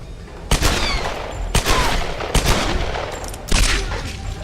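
Weapon fire in Tomb Raider: Definitive Edition, four sharp, loud gunshots spaced about a second apart over a steady background ambience, with no voices.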